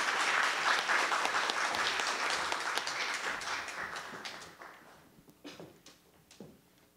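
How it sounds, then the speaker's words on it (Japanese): A crowd at a business awards ceremony applauds steadily, then the clapping thins and fades into a few scattered claps near the end. "どうぞ拍手をお願いいたします"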